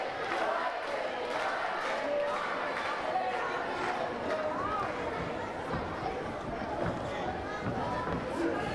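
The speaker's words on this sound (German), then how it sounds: "Hören wir einfach die Zuschauerreaktion." Wrestling audience at a show in Lübeck buzzes and calls out continuously, a busy murmur of crowd voices and scattered shouts filling the hall at moderate distance.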